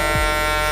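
An electric shaver hums in a steady, close buzz while taking hair down during a high skin fade haircut, continuous and unbroken for its short span.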